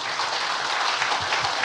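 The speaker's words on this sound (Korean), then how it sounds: "큰 박수를 부탁드립니다." Applause from a seated audience welcoming a professor to the stage at a Korean academic conference, a steady, dense wash of clapping with no voices over it.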